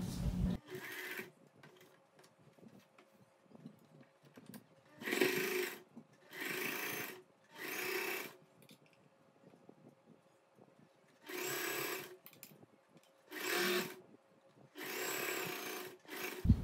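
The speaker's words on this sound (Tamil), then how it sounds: "நம்ம வந்து இதை இந்த இடத்துலேருந்து இப்படி ஸ்டிச் பண்ணி இப்படி ஓரமாக வரலாம்." A sewing machine stitches the front slit of a churidar in short, even bursts of whirring, about seven runs. Quiet gaps fall between them, and a voice is faint in the background.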